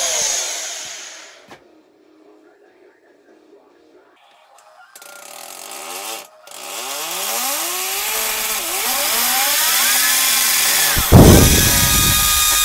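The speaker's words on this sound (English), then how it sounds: "You'll notice as I keep drilling these holes, I learn to quit making the bit wander around" Power drill boring anchor holes into a concrete wall, heard in bursts: quiet handling noises first, then a rising whine and grinding that grows louder and steadier toward the end.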